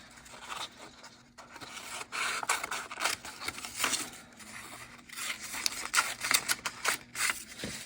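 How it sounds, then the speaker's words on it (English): Scissors snip and rustle through folded paper while cutting the folds of a classroom foldable, a quiet series of close cuts and paper rubbing with no talking. "you're going to cut along each of your folds just to the center fold on one half of it"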